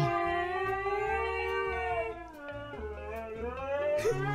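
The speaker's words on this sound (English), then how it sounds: "The Huskies hear the hurricane warning one time, and they just don't shut the fuck up." Several huskies howl together in long, wavering sustained tones, overlapping voices rising and falling continuously and fairly loud throughout.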